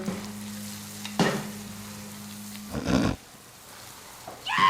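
Tomatoes dropped into a pan of hot, spicy African-style pepper sauce, giving bursts of loud sizzling and frying that flare up, settle, then rise again over a steady low hum.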